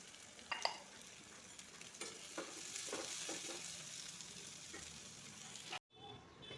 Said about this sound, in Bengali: আমার পেঁয়াজের বেরেস্তা ভাজা হয়ে গেছে